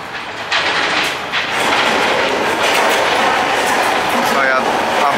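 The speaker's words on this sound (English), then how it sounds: "And there goes the train." A train passes through Tioga Station, a loud, steady rush of wheels and rail noise with clickety-clack, holding close and continuous from start to end, with a voice heard faintly at times.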